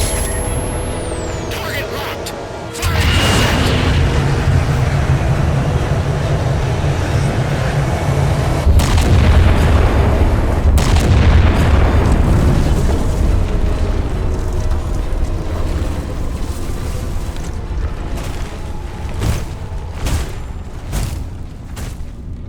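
Halo 4 ship weapon fire with heavy explosions: a loud boom opens a sustained roaring, rumbling barrage, swells of blast noise and debris, then a quieter rumbling tail. Voices speak over parts of it.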